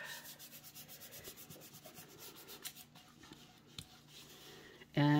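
Paper is rubbed down firmly onto a round paper lantern with quick, rhythmic back-and-forth strokes that slow and thin out, ending with a short louder rustle.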